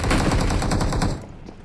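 Rapid automatic gunfire in the mobile battle-royale game BGMI rattles loud and close in a fast, even burst, then cuts off, leaving a quieter tail.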